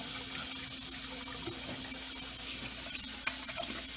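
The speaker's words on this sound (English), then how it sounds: "let me go ahead and wash my hands here real quick" Tap water runs steadily into a kitchen sink while hands are washed between cooking steps, a constant close rushing hiss with no talk over it.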